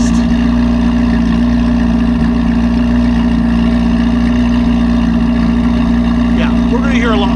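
A C8 Corvette Z06 flat-plane crank engine running through an AWE Sport Cat exhaust, a loud, steady, droning idle with a strong low hum, held throughout at close range.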